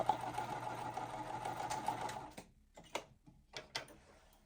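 Sewing machine stitching quilt pieces runs steadily and close for about two seconds, then stops, leaving a few scattered clicks and light handling knocks.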